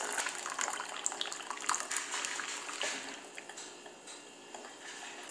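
Hot water trickles slowly and steadily onto a mound of ground coffee, a soft, close, continuous pour with faint ticking drips.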